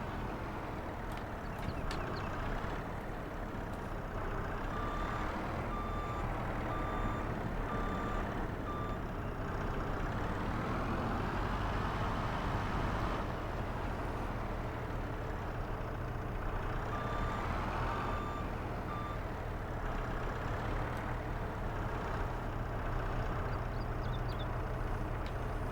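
A truck loading a trailer in the survival game No Mans Land, with a steady low engine drone running throughout and intermittent reversing beeps sounding twice over the rumble, and no voices.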